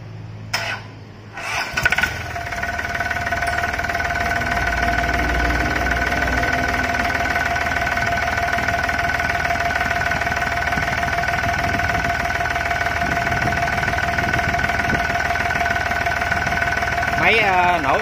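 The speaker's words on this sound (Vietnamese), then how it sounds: "Máy nổ im ru anh em." A Yanmar 3T84 turbo diesel engine of 35 hp starts up and settles into a steady, loud, close running drone with a strong harmonic whine. It keeps running continuously throughout.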